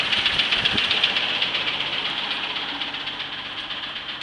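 Straight-six 250 engine in a 1978 Chevy Nova idling with a knock, a close, steady running drone carrying a faint repetitive ticking beat throughout.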